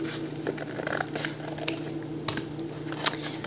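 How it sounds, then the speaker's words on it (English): Handheld scissors snip through folded paper sheets in a few short, crisp cuts with soft rustling and paper handling between them, close and quiet with no talk. "I'm just going to use my scissors."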